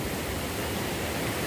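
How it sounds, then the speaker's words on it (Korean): Heavy rushing water from a mountain stream or waterfall swollen by a downpour on a mountain trail, a dense, steady roar filling the whole short stretch with no other sounds. "엄청납니다. 아주 물소리가."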